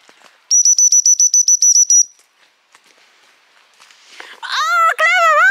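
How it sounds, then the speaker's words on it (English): A small whistle blown outdoors to call a dog lets out a rapid series of about ten sharp, high pips. A pause follows, then a loud, wavering high wail. "I've got a little whistle here somewhere."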